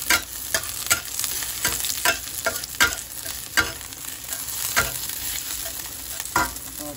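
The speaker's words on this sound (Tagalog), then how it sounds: "ikisa na tayo ng bawang" Chopped garlic sizzling in hot oil in a pan for a pechay and Century Tuna dish, a steady close fry hiss cut by repeated sharp scrapes of a spatula stirring, with no talking.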